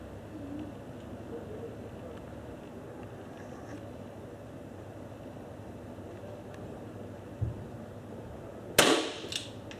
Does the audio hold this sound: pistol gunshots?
yes